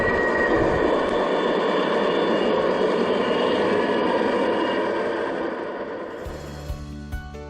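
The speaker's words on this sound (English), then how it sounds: "Listen to the realistic sounds of the brakes squealing as I bring the train to a" A model train's brakes give a sustained high metallic squeal over a rumbling engine-like drone, fading as it slows to a stop outdoors on a lawn, then a few clanks and a buzzing hum at the end.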